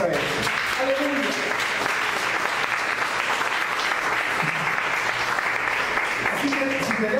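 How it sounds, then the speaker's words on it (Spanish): A church congregation gives sustained applause as an offering of praise to God, a steady wash of clapping filling the room with a few voices rising over it. "Denle otra ofrenda de palmas a Él"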